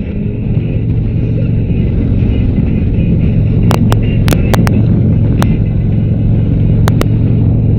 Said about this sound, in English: So he's riding on the 2016 Softail Slim.